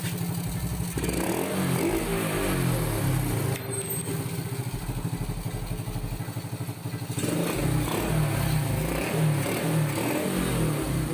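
A Honda XRM 110 motorcycle engine with a smoking piston ring fault runs close by with a rhythmic low putter, briefly cutting out and stumbling in the middle before picking back up into a steady idle.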